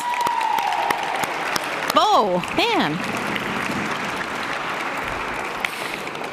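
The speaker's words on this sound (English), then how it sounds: "Everybody give him a round of applause." An awards ceremony crowd applauds steadily as an honoree comes forward, with whoops and a few shouted voices rising over the clapping midway before it settles back into sustained applause.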